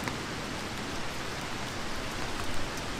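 Steady rain falls on a campsite, a dense even hiss with faint scattered drop patters throughout.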